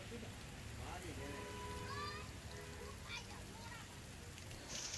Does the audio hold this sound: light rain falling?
yes